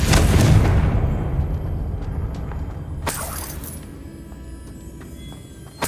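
A Confringo blasting spell in Hogwarts Legacy explodes with a loud, booming burst that rolls into a long rumbling decay, and a sharper crack follows midway.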